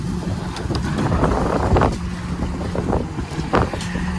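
Steady wind roars across the open Pacific aboard a deep sea fishing boat working stay nets, a constant rushing wash with gusty surges and low engine rumble beneath, no voices.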